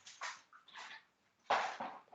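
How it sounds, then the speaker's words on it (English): A dog at home gives short whimpers and a few soft barks in quick bursts, faint and somewhat distant, with brief pauses between. "My dog's going a little crazy right now."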